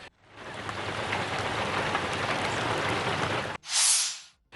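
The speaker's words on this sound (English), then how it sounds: "Heavy rains are continuing to pour in many parts of the country." Heavy rain pours down in a steady, dense hiss that stays loud for several seconds and then stops abruptly, followed by a short, sharp gust of noise.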